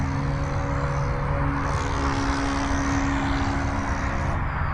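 An E-flite UMX Twin Otter, a small twin-motor RC plane on its maiden flight, buzzes steadily overhead with a continuous high electric whine and layered motor tones, fairly loud and unbroken with no talk.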